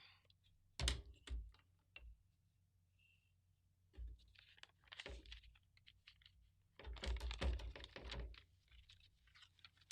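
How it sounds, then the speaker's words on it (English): A sheet of craft foam is torn by hand in a few quick, close ripping bursts separated by quiet pauses, with a longer rough tearing stretch near the end. "See how nice and easy that tears."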